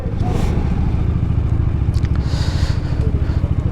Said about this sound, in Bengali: তো এখন বাইক স্টার্ট দিচ্ছে।